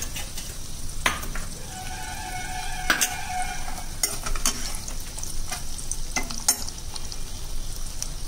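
Chopped onion with kasuri methi sizzles and fries in a pan while being stirred, steady close frying hiss broken by sharp scrapes and clinks of the spoon against the pan, with no talking.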